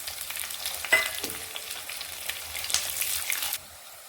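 Shallots frying in oil with garlic and green chilli, a steady close sizzle with a few stirring scrapes and sputters, alone without talk, cutting off abruptly near the end.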